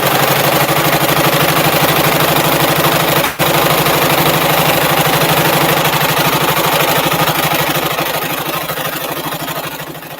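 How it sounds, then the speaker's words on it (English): A sewing machine runs steadily at close range, stitching straight down a fabric mask with a fast, even mechanical whir that pauses for a split second, then continues and tapers slightly toward the end. "So I'll keep my finger there and just sew straight down"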